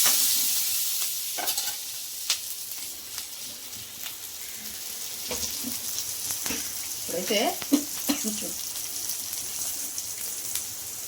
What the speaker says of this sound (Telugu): ఇప్పుడైతే దీంట్లో చూడండి తిరగమాతలో పచ్చిమిర్చి ఎండుమిరపకాయ వేస్తున్నాం కదండి